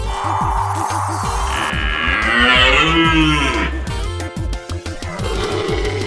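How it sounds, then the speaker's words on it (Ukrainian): A reindeer calling in a loud, low, drawn-out grunting moan that rises and wavers for several seconds, close and clear with no talk. "Північний олень."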